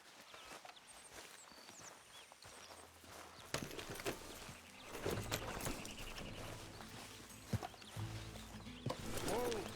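Horse hooves clip-clop in a video game, irregular thuds and steps moving close by amid shuffling, clattering and faint background sounds, with a brief snort-like call near the end.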